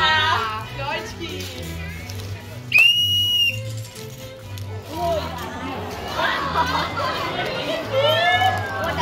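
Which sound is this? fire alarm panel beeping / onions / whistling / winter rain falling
whistling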